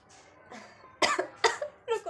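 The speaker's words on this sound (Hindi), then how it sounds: "मुझे खांसी आ रही है" A series of close, loud coughs from a person with a sore throat, three strong bursts after a couple of softer ones, with brief pauses between.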